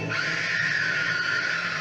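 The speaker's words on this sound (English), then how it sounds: "you've forgotten about Victoria's scream" A woman's high, sustained scream from an animated Doctor Who serial, Fury From the Deep, holding a steady shrill pitch for nearly two seconds, loud and alone with no talk over it.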